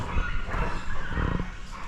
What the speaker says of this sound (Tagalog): May aso pala din eh.